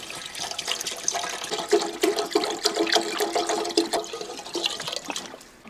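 Cold water being poured for salted lime juice, a steady close splashing stream with trickling and gurgling throughout, fading at the end.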